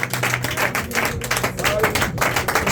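A church congregation claps steadily through a worship service, a continuous patter of many hands close around, mixed with voices speaking and calling out over it.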